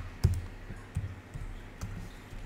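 A computer keyboard clicks with a few sparse, soft keystrokes spaced about half a second apart, close and quiet, as a task name is typed into a spreadsheet.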